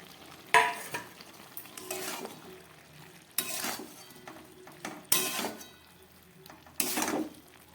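Mustard paste and fried prawns cooking with Malabar spinach in a pan, stirred in about five distinct scraping bursts over a faint sizzle, fairly near and quiet between strokes; nobody speaks.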